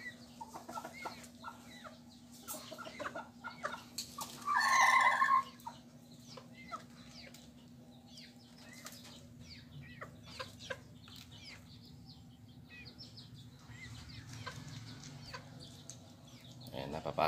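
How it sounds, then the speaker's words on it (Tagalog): Chickens cluck softly while feeding near a house, with a brief louder flurry of calls around the middle over a steady low hum; a voice speaks faintly in the background. "Kuha na muna natin ng kumakain na mga malulusog na manok mga idol."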